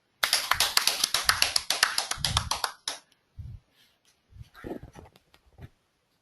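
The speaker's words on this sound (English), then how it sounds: "Can we guys can we have a huge round of applause for Ananya?" A small studio audience in a GRE coaching studio gives a brisk round of applause for a student: close, dense hand-claps for about three seconds, then a few quiet voices.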